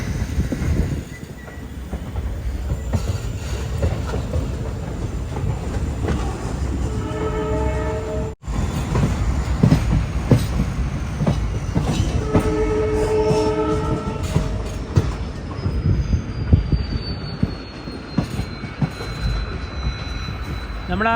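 A passenger train pulls out of a station on the Mysuru line, its horn sounding twice in long harmonic blasts. Wheels squeal and rumble close by as it moves off, and faint voices are heard under the noise.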